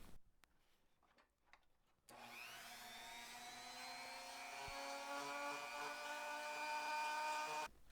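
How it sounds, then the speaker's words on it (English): A Dremel rotary tool fitted with a small grinding burr carves away metal on an antique Barclay toy car, starting abruptly as a loud, steady high-pitched whine that holds and slowly rises for several seconds before cutting off. "I'm going to use a Dremel tool with a little bit of a grinding burr"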